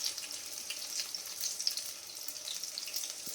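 Pumpkin fritters (kumror bora) frying in hot oil for a Bengali Ulto Rath Yatra feast, giving a steady, soft, even sizzle with no one speaking.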